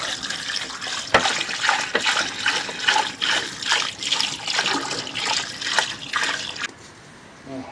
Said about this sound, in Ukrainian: Такі ребра і заливаємо їх водичкою.